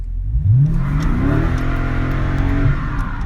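A Dodge Scat Pack V8 revving hard in second gear during a line-lock burnout, a loud, sustained, near roar with rising engine pitch and a brief dip and climb near the end, no voices.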